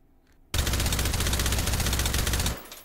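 A suppressed M4A1 carbine fires in H3VR as one rapid, continuous burst of muffled shots lasting about two seconds after a quiet lead-in, loud and close, then cuts off.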